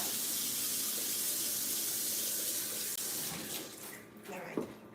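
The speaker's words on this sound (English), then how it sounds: "Let me wash up my hands." Water runs steadily from a kitchen tap as hands are washed, a continuous hiss that breaks up near the end into splashing and dripping as the flow is disturbed.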